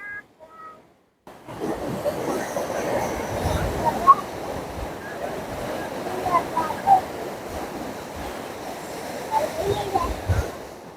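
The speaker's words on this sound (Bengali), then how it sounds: "সমুদ্রের ঢেউ পাথরে এসে ক্রমাগত ধাক্কা দিয়ে দিয়ে ন্যাচারাল আর্টস তৈরি করেছে" Sea waves break against rough rocks on Thotlakonda Beach near Visakhapatnam, a steady churning roar with gusts of wind buffeting the mic, starting abruptly after a brief quiet moment.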